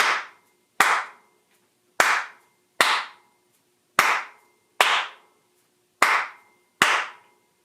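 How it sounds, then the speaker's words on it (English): Sharp group hand claps in a syncopated Charleston rhythm, eight crisp strikes in uneven pairs with silence between, loud and close with no talking. "we're going to see if you can clap the Charleston along with this"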